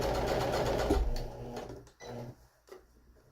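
A sewing machine stitching a folded, opened seam to hide raw edges, running in a fast steady whir close up, then slowing into short separate bursts before stopping, with no voices.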